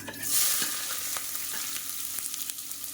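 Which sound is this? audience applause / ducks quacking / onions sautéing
onions sautéing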